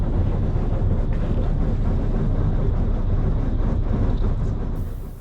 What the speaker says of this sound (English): That noise is us breaking through the ice.